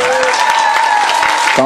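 A crowd applauds at a cosplay contest during a fan convention, with steady, dense clapping throughout and a voice or tonal sound running underneath.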